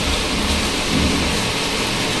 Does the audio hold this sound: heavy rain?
yes